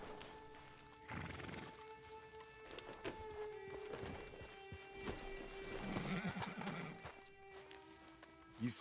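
In a video game, a horse's hooves clip-clop steadily while the animal gives a whinny, with a low hum underneath and a brief vocal burst near the end.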